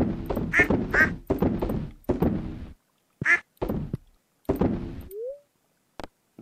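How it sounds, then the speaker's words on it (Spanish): Ducks in the farming game Stardew Valley quack in a lively run of close, clear calls, then a few scattered quacks follow with short pauses, a soft rising blip, and a brief knock near the end. "Vamos a ver a los patos."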